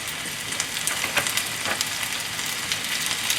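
Tofu and jumbo shrimp stir-frying in a hot pan, a dense, continuous hiss and crackle that is close and loud, with small spitting pops throughout and no voices.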